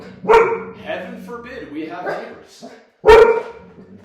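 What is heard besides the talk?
dogs barking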